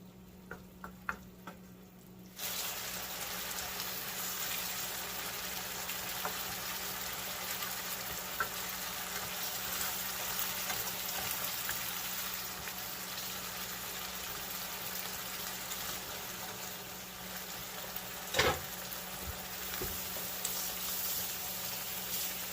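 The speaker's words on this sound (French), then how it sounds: "Et on va laisser que ça puisse mijoter pendant un petit temps." Pondu, a cassava leaf sauce with fish, simmers in a pot with a steady hissing bubble that holds evenly after a quiet start, with one sharper clink late on.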